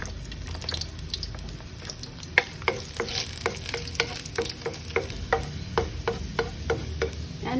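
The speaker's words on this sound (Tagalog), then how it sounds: "Saute the garlic." Garlic sautés in a pan with a low, steady sizzle under a faint background hiss, while a utensil clicks and scrapes against the pan in a regular rhythm through the second half.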